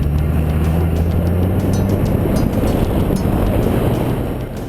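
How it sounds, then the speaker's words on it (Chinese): A Honda CR-Z engine drones loudly and steadily as the car accelerates in sport mode, with a constant low rumble and road noise filling the cabin without a break. "会发现它的发动机产生的轰鸣声比较明显"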